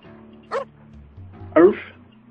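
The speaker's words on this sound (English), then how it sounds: "Oh, that's a dog." A dog in the video game Parasite Eve 2 gives two short barks about a second apart over a low droning game soundtrack.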